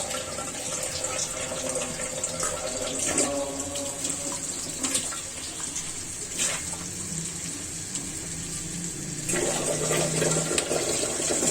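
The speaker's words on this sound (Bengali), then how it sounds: "আমি একটা পানি অ্যাড করে দিব" Water runs and splashes steadily into a cooking pot of dried fish with okra and bitter gourd for several seconds, a continuous pouring rush with faint clatter underneath and no talking.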